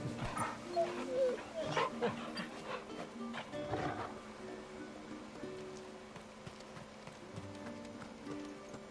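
A hound barks a few times in the video game Final Fantasy XVI, sitting fairly quiet amid other game sounds, with horse hoof clops and some talk in the mix.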